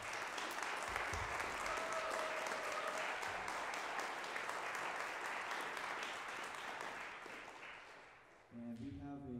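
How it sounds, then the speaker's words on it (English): Audience applause for a college big band at a jazz concert, a dense sustained wash of many hands that fades toward the end before music resumes. "let's just give a round of applause for the band"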